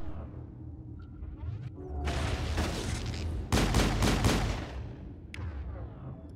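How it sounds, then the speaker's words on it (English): Shotgun fire in the Mass Effect video game, a sustained barrage of loud overlapping blasts with rumbling booms and whooshes, building to a dense burst of rapid shots before easing off. "No, he's using a shotgun."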